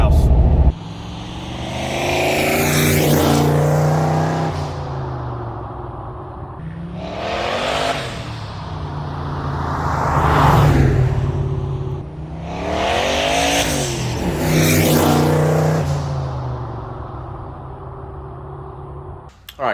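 A 1989 turbocharged Ford Mustang Foxbody on the road, its engine rising and falling through loud repeated revs and gear pulls heard from inside the car, roughly three long surges.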